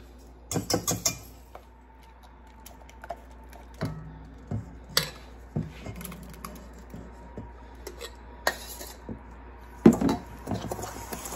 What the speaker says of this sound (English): start adding the blackberries to the sugar mixture and stirring it in until it's fully incorporated